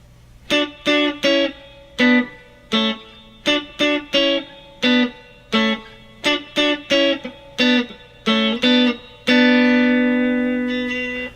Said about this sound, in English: we'll have some double stops to play that will sound like this.